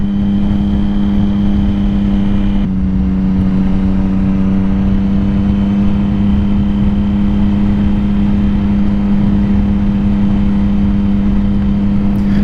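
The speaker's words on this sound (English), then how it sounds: "triple engine is really smooth, and the power delivery is just as smooth as the way that the engine idles." A 2006 Triumph Daytona 675 triple-cylinder engine idles steadily and smoothly with an even, close hum, loud and alone throughout.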